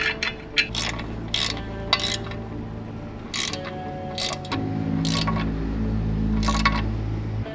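A ratchet tightens the clutch pressure plate bolts on a Subaru WRX during an Exedy clutch install, giving bursts of rapid clicking in several separate runs, close and loud, over a low mechanical hum that grows toward the end.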